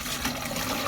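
Collected rainwater poured into a large vessel, a steady, full rushing splash that stays loud and even for about a second with no voices.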